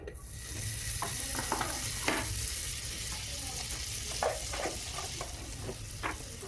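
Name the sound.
butter sizzling in a hot pressure cooker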